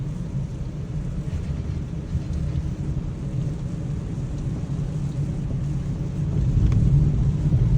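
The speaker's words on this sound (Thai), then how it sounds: "ฝนตกตลอดทางเลยครับผม จากสามเหลี่ยมมานี่ฝนตกตลอดเลย" Heavy rain falls on a car driving a road in northern Thailand, around Mae Suai between the Golden Triangle and Chiang Mai, making a constant dense hiss over low road rumble that swells slightly toward the end.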